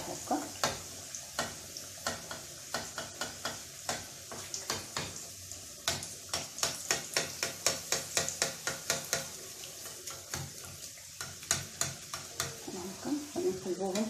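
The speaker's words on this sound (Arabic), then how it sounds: "نرشو عليهم بحال هكا الزيت نقص البوطه باش ما يتحرقوش لينا بحال هكا، مادام كنرشو الزيت وهما كيتنفخو" Rghaif dough flatbreads fry and puff in oil in a pan, with a soft sizzle under a long run of quick rhythmic scraping and tapping strokes, close and steady, and no voice.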